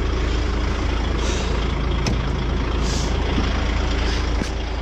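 A long-haul truck shutting down in winter, a steady loud engine rumble running throughout with a few sharp air-brake hisses and clicks, the drone dropping slightly near the end.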